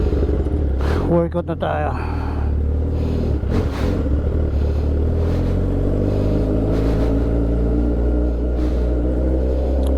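A warmed-up motorcycle idles with a deep, close rumble, then pulls away with the engine note holding steady and loud. Someone speaks briefly over it.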